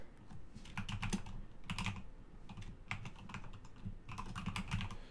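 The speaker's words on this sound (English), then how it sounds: "if you can hear where I'm clicking based on the mechanical keyboard" A password is typed on a mechanical computer keyboard in close, clicky bursts of rapid keystrokes, with short pauses between the runs.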